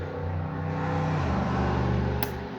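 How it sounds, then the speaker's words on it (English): A car passes on a busy street outside an open window, a steady, fairly loud engine hum that swells and shifts lower in pitch midway as the vehicle goes by. "Sorry if you could hear that car."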